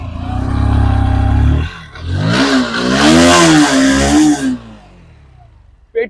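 A Bajaj Pulsar 125 motorcycle engine idles loudly, then revs up in rising and falling surges before cutting off, heard up close.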